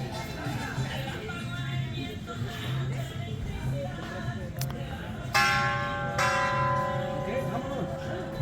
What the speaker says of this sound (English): The bell that they just rang.